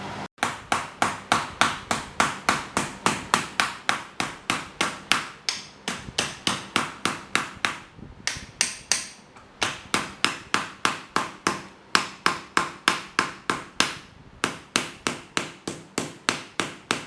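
A metal panel beaten over a plywood buck for a 1967 Datsun Roadster build, a long steady run of sharp ringing hammer blows at an even brisk pace with one short pause midway, close and loud, no talking.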